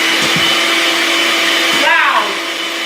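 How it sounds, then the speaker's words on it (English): An electric whisk beats cake batter in a home kitchen, a loud continuous whir with a few knocks of the beaters against the bowl and a brief pitch shift near the end. "So I'm just going to whisk this up."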